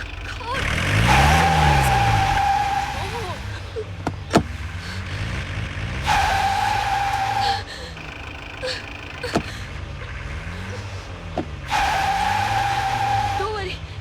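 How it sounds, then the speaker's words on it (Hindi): A car on a road blocked by a fallen tree reverses and speeds away, its engine surging and revving in repeated bursts with tire noise, while tense voices speak over it. "गाड़ी बैक करो, बैक करो।"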